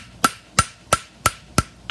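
A hammer strikes a horseshoe on an anvil five times in a steady rhythm, each blow sharp, ringing and close, with near-silence between strikes.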